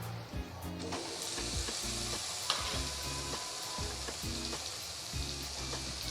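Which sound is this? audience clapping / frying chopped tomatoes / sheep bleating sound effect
frying chopped tomatoes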